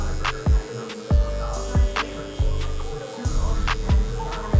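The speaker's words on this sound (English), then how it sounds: "now I'm going back on my Cyborg clipper lever all the way open" A Cyborg electric hair clipper with its lever fully open runs in a barbershop fade, giving a steady close electric hum and buzz with repeated low thumps as it works through hair.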